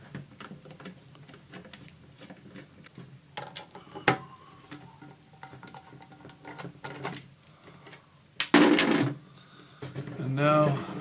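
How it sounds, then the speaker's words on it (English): Screws are removed from the bottom cover of a Tektronix 577 curve tracer: quiet scraping, ticking and clicking from the screwdriver, with a few louder knocks and rattles as parts shift, all close up. "Now remove five screws that hold the bottom cover on."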